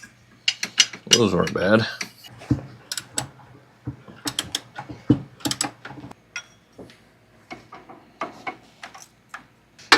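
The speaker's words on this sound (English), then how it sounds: "Get a wrench in there behind the pulley, loosen up the top bolt so she swings." Sharp metallic clicks and clunks from a 9/16 wrench working loose a pulley bolt on a 50-year-old Volvo 164e. Irregular close knocks are spread throughout, with a brief spoken remark early on.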